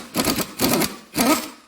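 A puller draws a harmonic balancer off a Ford Ranger engine, giving three short mechanical ratcheting or grinding bursts close up, with brief pauses between them and no talking.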